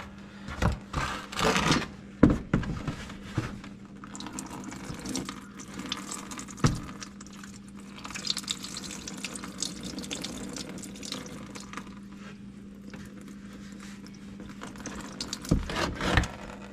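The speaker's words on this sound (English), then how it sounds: "It's draining the coolant." Engine coolant drains from a Corvette during engine removal, an uneven trickle and splatter of liquid with bursts of louder splashing near the start and end, and no talking.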